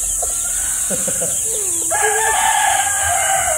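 A gamefowl breeder rooster crows once, loud and close, its drawn-out call rising over steady background hiss, with a few clucks before it.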